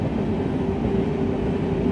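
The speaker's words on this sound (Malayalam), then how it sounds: "ദുരന്തോ ഇതാ കടന്നു പോവുകയാണ്." A Duronto express train rolls past a railway station on the Palakkad to Kadalundi route, a loud, steady rumble of wheels and carriages filling the whole stretch without any talk.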